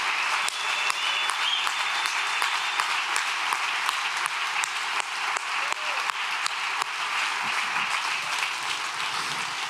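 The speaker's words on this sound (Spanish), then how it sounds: "Dele un fuerte aplauso al Señor en esta noche." A church congregation claps in a loud, sustained burst of applause for the Lord during an evangelistic service, dense and steady throughout, with no voices standing out above it.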